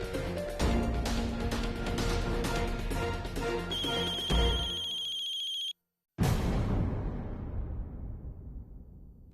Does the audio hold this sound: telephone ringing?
yes